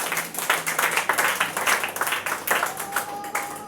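A church congregation applauds for the word of God during a French-language service, a steady burst of many hands clapping close by for several seconds.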